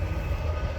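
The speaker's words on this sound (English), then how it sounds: "Oh, there's a super surfliner going out." An Amtrak Surfliner passenger train rolls past Fullerton station with a steady, close, loud rumble and no horn or talk in this brief moment.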